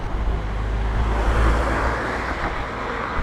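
A car passing close by on a road heading toward Katowice, heard as a loud, rushing engine and tyre roar that builds and then fades slightly.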